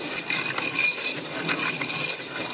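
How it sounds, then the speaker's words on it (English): A hand-cranked piston ring grinder files the end gap of a ring for a Pontiac 455 engine, giving a close, rapid rasping and clicking grind in short uneven bursts with no talking. "as you're grinding, you're pushing the ring towards the grinder itself"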